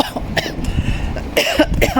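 A close, throaty cough after swallowing saliva, with a rough clearing sound, coming in a couple of bursts over a noisy background in the Czech Republic.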